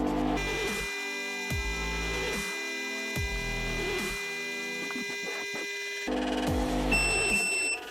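A UV curing machine for screen protector film hums steadily and cycles with low thumps. Near the end a short, high electronic beep sounds.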